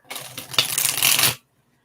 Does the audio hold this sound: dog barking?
no